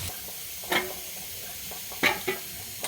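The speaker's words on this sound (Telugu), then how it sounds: "కొద్దిగా కొబ్బరి కారం వేసుకోవాలి బాగా కలపాలి" Radish curry with onion and coconut spice powder being stirred in a pan, a soft low sizzle underneath with a few scraping stirs of the spoon, one near 0.7 s and a cluster around 2 s, no talking.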